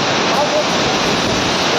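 A waterfall in a Konkan village during the rainy season roars loudly and steadily as a dense, close wash of falling water.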